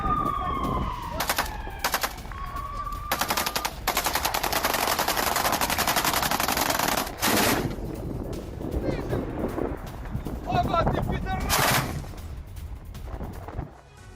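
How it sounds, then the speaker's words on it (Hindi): Anti-aircraft gunfire during a Russian missile attack on Ukraine, heard as loud rapid bursts of firing that come and go over continuous noise, with a rising tone at the start and brief gaps between volleys. "एंटी एयरक्राफ्ट गन से हमला किया गया।"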